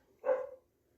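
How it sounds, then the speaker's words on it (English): A single short dog bark, fairly close, with quiet surroundings before and after. "Sorry for the dog barking."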